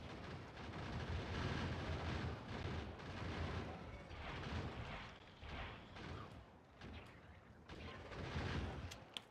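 Gun turrets in Factorio: Space Age firing at worms: a continuous, rumbling barrage of overlapping booms and rattling shots, fairly faint and distant-sounding, rolling on for several seconds with brief lulls and no talking.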